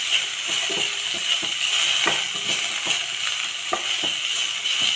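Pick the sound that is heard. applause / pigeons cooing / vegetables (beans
vegetables (beans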